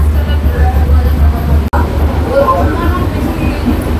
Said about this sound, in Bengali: আর এখন আমাদের ট্রেন ঢুকছে খড়দা স্টেশনে